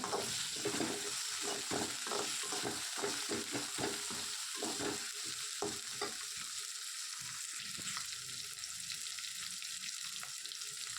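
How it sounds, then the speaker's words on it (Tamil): Tomatoes, green chillies and curry leaves sizzle in a hot pan while being stirred, with a steady frying hiss and repeated scraping strokes, busier at first and easing later. "இப்போ இது நல்லா வந்து மிக்ஸ் பண்ணி விட்டுறேன்"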